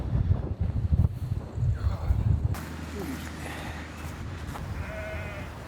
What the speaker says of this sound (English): We're out of the woods and straight into a north wind.